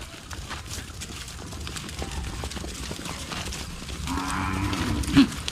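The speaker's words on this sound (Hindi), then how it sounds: "एंड इस पे छेरी लोग आ रहे हैं" Goats come along a village path near a temple, with a loud bleat near the end over a background of shuffling hooves and rustling outdoor noise.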